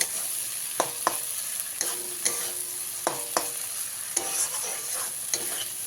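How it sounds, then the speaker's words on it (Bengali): Tomato paste and spices fry in a pan, giving a steady close sizzle broken by repeated sharp scrapes and knocks of stirring. "টমেটোর পেস্টটা দিয়ে খুব ভালো করে এরকম ভেজে নিতে হবে"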